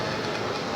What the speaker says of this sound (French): devant nous, on voit le métro aérien, la ligne 2